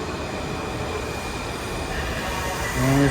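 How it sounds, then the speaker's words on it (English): Washington Metro subway train at Gallery Place–Chinatown station, a steady rumble of the underground train with a rising wheel squeal near the end, alone without talk. "And there's a train down right now."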